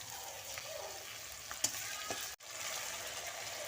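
A spice paste of cumin, coriander, ginger, garlic and chilli fries with browned onions in a pan, a soft, steady sizzle broken by a few light utensil clicks and one brief dropout, no talking.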